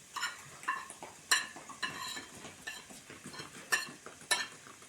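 Ground mustard, fenugreek and asafoetida spice mix being stirred in a pan, with repeated soft scraping strokes and light clinks of a utensil, faint and close.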